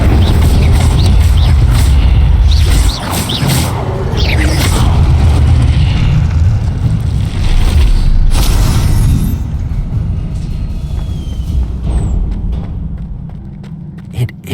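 An Incendio fire spell cast in Hogwarts Legacy: a loud, dense roaring whoosh of flame with heavy low rumble that holds strong for several seconds, then thins into a quieter crackling tail.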